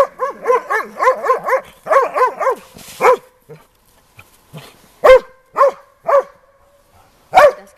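An East Siberian Laika hunting dog barks in a rapid run of sharp, close barks, then pauses before a few spaced single barks, loud against an otherwise quiet outdoor background.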